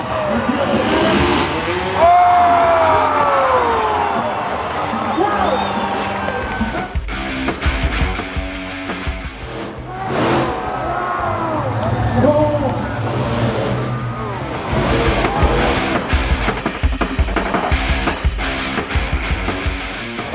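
Monster trucks and motorcycles at a Monster Jam show, loud engines revving and roaring with tire squeals echoing through an arena, a crowd and an announcer's voice heard throughout.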